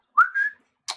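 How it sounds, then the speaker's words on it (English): A loud, sharp whistle through the teeth rises in a bright two-part blast, followed a moment later by a brief breathy burst, with no talking over it. "He whistles through his teeth."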